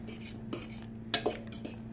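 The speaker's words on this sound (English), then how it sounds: "Just lightly stir, because you don't want to break up your apples. Just, you know, just lightly stir with a fork." Apples being lightly stirred with a fork for skillet fried pie filling give a few soft clinks and scrapes in short bursts over a steady low hum, close and fairly quiet.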